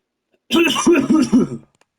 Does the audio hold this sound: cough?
yes